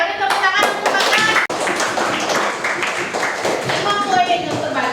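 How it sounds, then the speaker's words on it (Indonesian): Students in a classroom clap for a classmate, a dense burst of hand claps across the whole stretch, with a brief pause midway and voices mixed in. "Beri tepuk tangan untuk Bagas."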